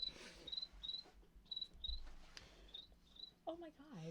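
A person imitates a cricket with short, regular high-pitched chirps in pairs, fairly quiet in a room, with a brief spoken sound near the end.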